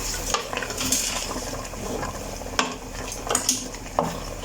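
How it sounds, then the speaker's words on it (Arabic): Meat seared and stirred with cinnamon sticks in a pot for a Moroccan prune stew, a steady soft sizzle under scraping and clinking of a utensil against the pot, with a few sharper knocks, no talk. "وصافي غادي نبدا هكا كنشحر، كنحرك هكا، كنخلط في اللحم ديالنا"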